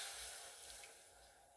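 A small amount of water poured into a cooking pot for a tomato-braised fish dish; a soft, steady trickle close by, faint and fading slightly toward the end.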